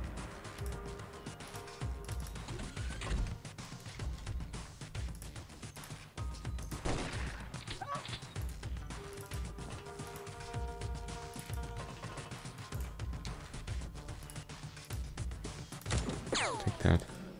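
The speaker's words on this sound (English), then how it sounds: "Grenade." A grenade blast and other weapon fire crack through an X-Piratez battle, loud impacts over a busy bed of game sounds, with a voice talking at times.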